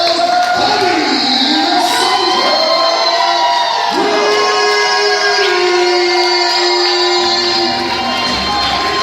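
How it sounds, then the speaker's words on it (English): A boxing crowd at a sports complex in Springfield, Virginia cheers and applauds a judges' decision, loud and continuous with shouts and whoops rising over the din and an announcer's voice booming through. "let's give both sides a round of applause for a big fat call"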